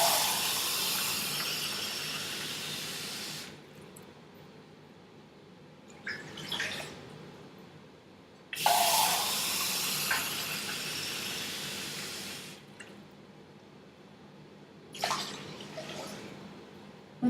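Water poured from a tap for cooking white rice, several bursts of hissing, rushing flow that start and stop abruptly, close by with short quieter gaps between pours and no talking.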